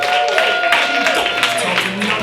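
Audience applause and cheering welcome comedian Mike Morrison to the stage at a live comedy show, a steady dense wash of clapping with crowd noise throughout, with music or a tone sustained underneath.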